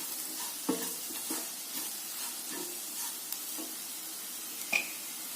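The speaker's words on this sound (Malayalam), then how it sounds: "കരിഞ്ഞു പോകാതെ ഒന്ന് ഇളക്കി കൊടുക്കുക." Spices for chicken curry being stirred in a hot pan, with soft intermittent scrapes of a spoon against the pan over a quiet background sizzle and one sharper clink near the end.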